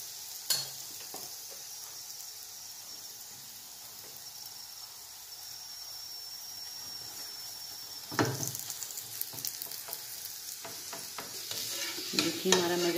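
Cauliflower-stuffed paratha fries in oil on a pan with a soft, steady sizzle that swells into louder, busier crackling and spitting partway through.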